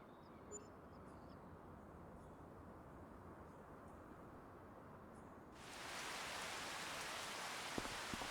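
Rain falls steadily in the farming game Farming Simulator 25, a soft continuous hiss that swells abruptly into a heavier, brighter downpour partway through.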